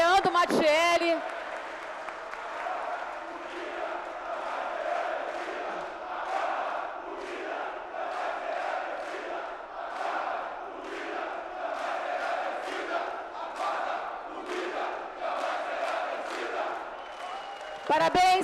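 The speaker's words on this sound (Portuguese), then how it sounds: "eu gostaria de uma salva de palmas" Councillors and guests applaud and cheer during a municipal council plenary session in honor of the city guard commander, a sustained burst of clapping and crowd voices, with brief speech before and after.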